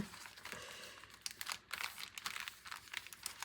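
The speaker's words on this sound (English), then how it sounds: "I'm sorry for those that don't like crinkling sound" Paper crinkling and rustling while a junk journal signature is assembled, a quiet, close series of irregular crackles and crumples with short pauses, no voices.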